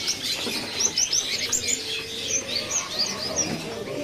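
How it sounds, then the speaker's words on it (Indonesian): A pare-pare bird, a local Mozambique canary, calls in a bird kiosk, giving quick bursts of high, sharp chirps that come close together, with other faint cage sounds in the background. "Ini ada burung pare-pare ya, atau Mozambik lokal."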